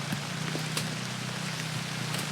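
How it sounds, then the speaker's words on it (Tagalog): Steady rain falls outdoors around a livestock pen for goats during a stormy spell, a continuous even hiss with a low hum beneath it and a few faint clicks or drips. "Umuulan."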